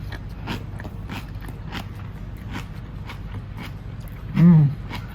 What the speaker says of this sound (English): the crunch factor of this sauerkraut